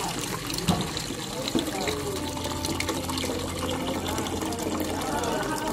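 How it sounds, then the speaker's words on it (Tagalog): Water poured into a cooking pot of sautéed sardines, a steady close pouring and filling rush running the full length, with a couple of clunks near the start. "Lagyan natin ng tubig."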